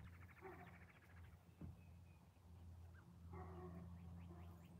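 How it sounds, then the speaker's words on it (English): A big dog barks somewhere far off outdoors, faint and distant, with a few scattered calls over steady low background noise and occasional bird chirps. "Sounds like a big dog."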